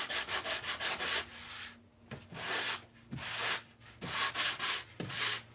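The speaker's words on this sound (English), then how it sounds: "A lot of sanding is done by feel and sound and sight." Hand sanding a foam model wing with rhythmic rasping strokes, a series of repeated rubbing passes with brief pauses between them, close and fairly steady.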